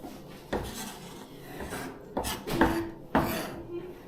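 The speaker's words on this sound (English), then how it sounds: "I'm gonna put all of my garlic in here." Garlic being dropped into a small jar in a kitchen: scattered light clinks and taps against glass with soft rustling between, close and fairly quiet.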